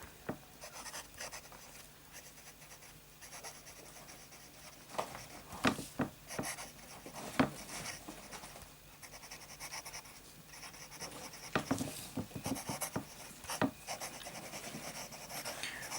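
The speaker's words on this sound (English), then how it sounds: "Start with a bit of fine writing." A fountain pen loaded with Waterman Audacious Red ink scratches across paper in fine writing strokes, with soft, close nib scrapes coming in short irregular bursts and pauses.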